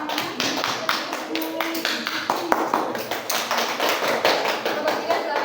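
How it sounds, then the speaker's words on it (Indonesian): Classmates in a classroom applaud group 2 with dense, uneven clapping that goes on throughout, close and fairly loud, while voices talk over it. "Untuk kelompok 2 silakan diberikan aplaus untuk teman-teman"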